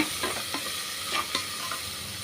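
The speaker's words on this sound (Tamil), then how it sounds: "தக்காளி வந்து நல்லா வதங்கி வரட்டுங்க." Tomatoes with salt sauté in a pan for coconut milk rice, a steady sizzle broken by several scraping stir strokes, close and alone with no voices.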